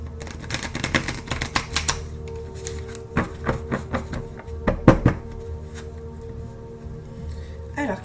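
Tarot cards are shuffled by hand in a rapid run of papery riffles and taps, close and fairly loud, with a brief louder burst midway; a voice speaks over part of it.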